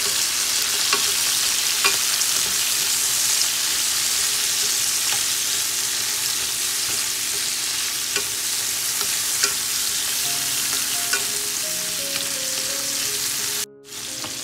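Small shrimp fry and sizzle steadily in a pan, a continuous bright crackle with occasional stirring clicks throughout, no talking heard.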